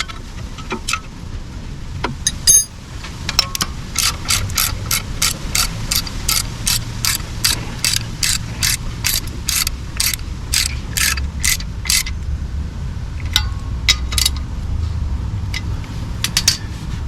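Quick ratchet clicks come in a steady run of about twenty even strokes, close by and fairly loud, as two small 10 or 12 mm bolts on a car's clutch release cylinder are tightened, with faint workshop background underneath.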